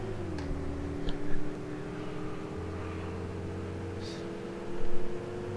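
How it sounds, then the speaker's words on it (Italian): Diesel city bus engine accelerating slowly in the bus simulator OMSI 2, a steady droning hum with rising tonal whine, swelling briefly twice, with faint cabin sounds and no speech. "che ripresa che ha sto autobus lenta"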